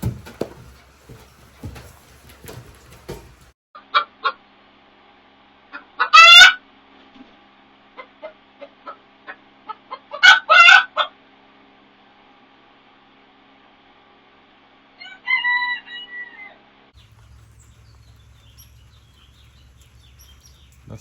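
Chickens cluck and a rooster crows at a farm coop, with two loud crowing bursts and scattered clucks amid quieter background noises, with no one speaking.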